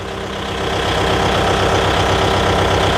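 A Kubota 5502 4WD tractor engine idles with a steady, loud low rumble while turning, holding constant throughout, with no voices.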